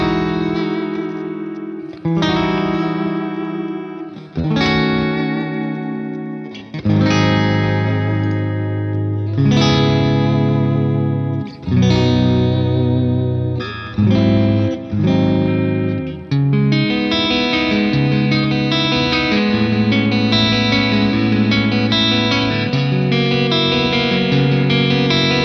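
An Ibanez electric guitar with signature Fishman Fluence pickups played through effects, ringing distorted chords and notes with heavy reverb and echo, loud and alone.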